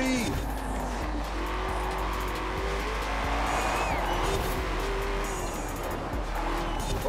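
A Shelby GT350R in the Forza Horizon 4 racing game, built to 1,074 horsepower, brakes hard with tire squeal over a loud, continuous engine roar, pitch shifting as it slows into a turn.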